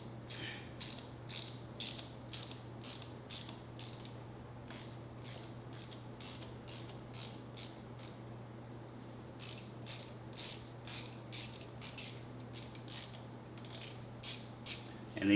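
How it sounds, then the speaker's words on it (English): An Allen key works set screws loose on a Yamaha Raptor 700R ATV, giving a long run of quick, faint, evenly spaced metallic clicks in a quiet space over a low steady hum, with a short gap midway. "So we're just going to loosen the set screws up."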